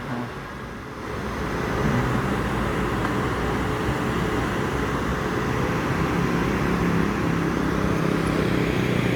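Aerobus double-decker bus pulling into a terminal to park: a low engine rumble rises after a second and keeps droning steadily at moderate distance, with traffic noise around it.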